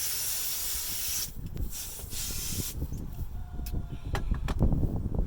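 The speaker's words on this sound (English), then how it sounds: "Let me just spray my hands" Two quick hissing bursts from a spray bottle onto hands during a Cornish Cross chicken harvest, then wet handling noises and soft clatter close by.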